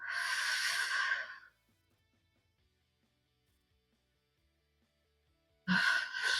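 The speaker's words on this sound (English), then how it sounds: "Breathing." Breathing during a deep yoga stretch: a long audible exhale, then near silence, then another breath drawn in, close and soft.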